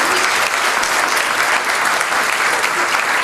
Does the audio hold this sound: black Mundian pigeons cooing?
no